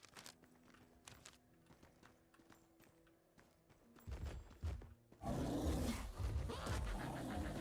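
Cows in the western video game The Dark West give loud, rough, low bellowing calls that burst in over earlier faint clopping and rustling and continue to the end.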